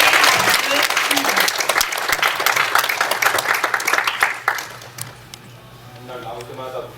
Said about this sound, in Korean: Let's give the Lord a hand for standing up here.